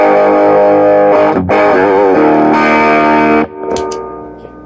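Electric guitar run through a T-Rex Crunchy Frog distortion pedal with the volume at noon, loud sustained chords and a brief break, then fading ring-out and light string noise.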